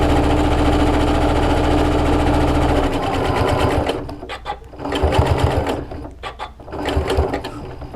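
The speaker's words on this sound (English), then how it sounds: "I put it on a zigzag stitch because I want the needle to hit the elastic so that it's secure" Sewing machine running a zigzag stitch over elastic on a fabric face mask, a steady fast mechanical whirr that stops and restarts in short bursts, close and loud.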